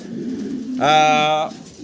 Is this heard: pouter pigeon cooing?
yes